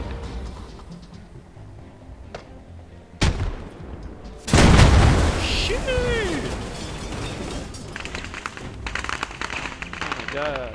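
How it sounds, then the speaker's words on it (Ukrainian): A sharp gunshot cracks out, then a heavier blast and rumbling bursts follow, with someone talking over the ongoing game noise. "Хто стріляє"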